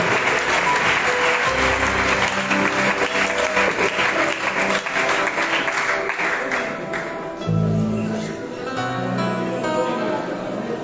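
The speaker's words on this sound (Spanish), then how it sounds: "Fuerte el aplauso." Church congregation applauding during a service, steady clapping under organ or keyboard chords, with a voice speaking briefly over it near the end.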